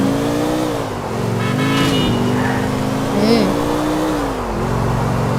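Engine of a car driven in the video game GTA IV, a steady droning hum that rises and falls with the throttle under continuous talk.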